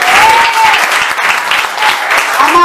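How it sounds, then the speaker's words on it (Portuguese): A congregation applauds during a church service, dense continuous clapping filling the room at close range, with a voice speaking over it briefly. "Essas palmas podem ser melhor para Jesus"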